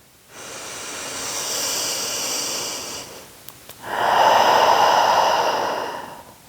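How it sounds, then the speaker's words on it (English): Two long breathing sounds, a steady airy inhale followed after a brief pause by a louder, fuller exhale, close and alone during a guided yin yoga stretch for the kidney and bladder meridians. "Take a full breath in and out."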